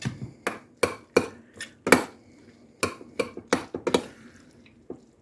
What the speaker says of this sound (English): So I'm going to add my hamburger.